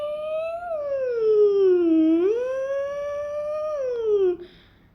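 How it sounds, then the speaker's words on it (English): An ambulance siren sounds as one loud, clear wailing tone that slides down, climbs again and holds before it cuts off near the end, with no other sound around it. "Okay, that's the ambulance"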